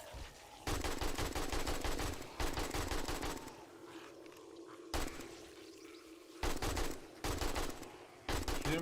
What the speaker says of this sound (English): shoot them before they get all the way back up